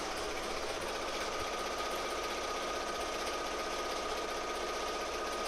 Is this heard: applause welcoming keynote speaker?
no